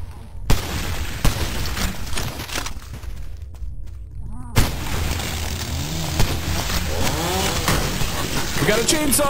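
An enemy's chainsaw revving in the horror shooter Cultic, a harsh buzzing engine drone that rises and falls amid gunshots, booms and a player's voice.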